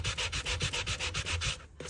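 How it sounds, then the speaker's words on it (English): Sanding block rubbed back and forth across the bottom of a resin skull tray, a quick, even run of about a dozen rasping strokes, close and clear with no talking, ending in a brief pause. "give the bottom a little sand. Get that nice and smooth. I like to use these sanding blocks"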